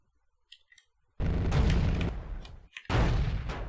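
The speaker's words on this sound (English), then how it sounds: "I wonder if I could just take it out with my cannon." Helicopter cannon fire from a Comanche gunship in the Comanche Gold game: two sustained, loud bursts of rapid automatic fire, the first lasting about a second and a half, then a brief pause before the second burst, with faint small blips beforehand.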